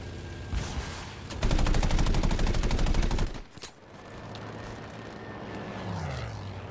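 A BF 109 G-6 fighter in Battlefield V opens up with a long, rapid machine-gun burst over its droning engine, then the firing stops and the propeller hum carries on alone.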